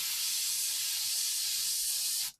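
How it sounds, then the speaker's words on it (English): Aerosol paint test-sprayed onto a sheet of paper: one steady, close hiss lasting just over two seconds, then cut off abruptly. "Just test spray first."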